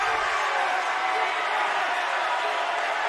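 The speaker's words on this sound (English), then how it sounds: "And the cheering coming from the Defiance, but cheers from the black and orange" Crowd cheering and roaring steadily at a women's college volleyball match in an indoor gym, a continuous loud wash of voices for several seconds.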